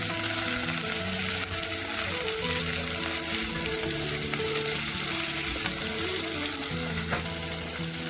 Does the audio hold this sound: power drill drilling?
no